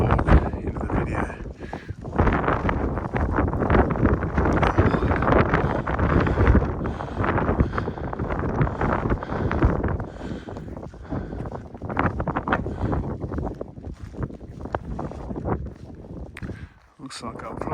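Wind gusts buffet and rumble across a microphone on an exposed ridge along a hiking trail. The heavy roar is nearly constant and loud, with a person talking over it.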